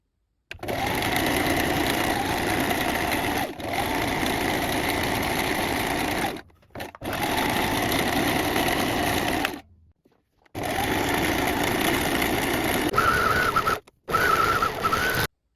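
Close, loud runs of a sewing machine and overlocker joining a trouser crotch seam at 7 mm from the edge, four sustained stitching bursts separated by short silent breaks.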